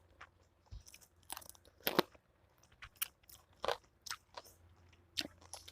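Loud, close crunching and chewing of grilled shrimp, steamed crab and cockles with seafood dipping sauce, a string of sharp bites and crackly chews in an irregular rhythm, with no talking.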